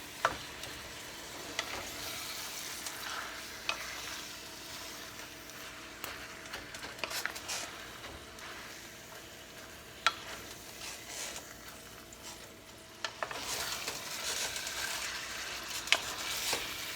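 Ground beef, not the lean kind, browning in a pan for chili: a steady close sizzle and crackle with occasional stirring scrapes and clicks, with no talking.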